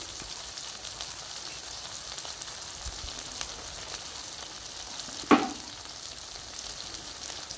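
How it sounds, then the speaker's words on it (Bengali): Ginger, garlic, onion and tomato paste sautéing in a pan gives off a steady, gentle sizzle, with one brief louder clatter partway through and no talking. "দিয়ে দেবো বেটে রাখা আদা, রসুন, পেঁয়াজ আর টমেটো। ভালো করে কষিয়ে নেব।"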